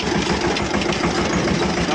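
A farm tractor engine runs steadily on a rough road, a continuous loud rumbling drone close by with no break and no clear talk over it.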